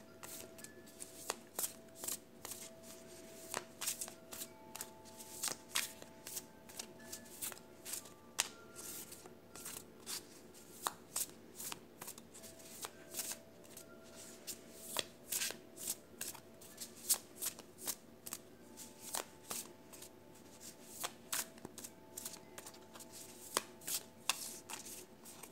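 Tarot cards being shuffled by hand, a steady run of soft crisp riffles and slaps repeating for a long stretch, close and fairly quiet with no talking.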